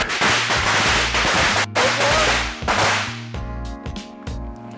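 A string of firecrackers goes off in rapid, loud cracking bursts that fire continuously, then thin into scattered pops toward the end.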